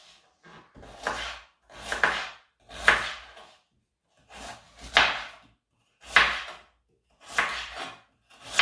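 A knife slicing through food on a board while Sulu Köfte meatballs are prepared, giving about seven separate drawn-out cutting strokes with brief silences between them, close and clear.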